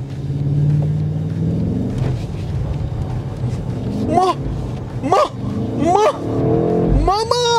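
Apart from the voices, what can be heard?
BMW M8 Competition accelerating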